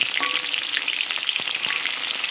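Cabbage pieces frying in oil in a wok give a steady, close sizzle with faint scrapes as they are turned, continuous throughout with no voices.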